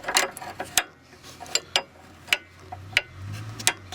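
Ring and open-ended spanners tighten the nut on an anti-roll bar drop link of a Vauxhall Opel, giving a series of sharp metallic clicks and ticks at irregular intervals, close and fairly quiet, with no talk.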